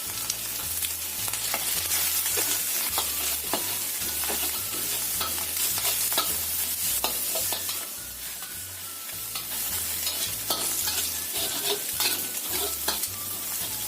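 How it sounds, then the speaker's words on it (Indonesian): Steady, continuous sizzling of garlic and shallots frying in a pan, with scraping and stirring sounds throughout, no voices. "Kita goreng sampai matang juga bawang merah bawang putihnya ini."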